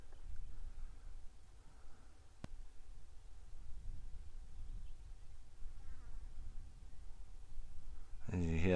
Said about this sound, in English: As you hear the flies buzzing past